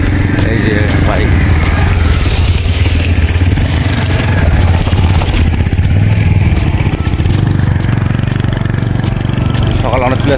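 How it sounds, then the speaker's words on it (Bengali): Motorcycle engine droning loud and close throughout, a steady mid-pitched rumble beside a large village pond in rural Malda on a morning outing. "এই যে বাইক"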